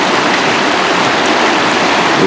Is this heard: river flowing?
yes